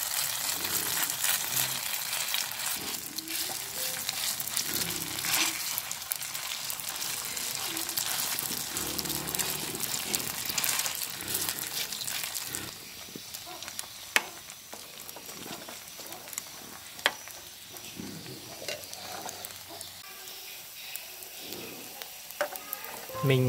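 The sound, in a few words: frying leftover rice cake batter in a regular pan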